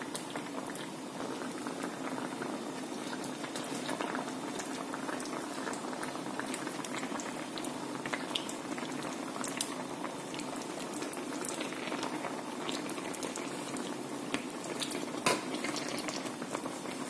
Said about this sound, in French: je vais donc fermer et laisser mijoter à feu doux